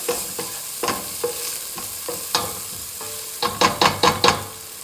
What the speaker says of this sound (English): looks like these onions are just about ready. I'm going to let them cook for just another minute